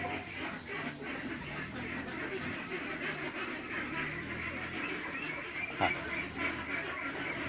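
Hungry ducks on a Thai egg-duck farm quack loudly and continuously near feed pellets mixed with unhusked rice, a dense steady flock chorus with a sharper call near the end.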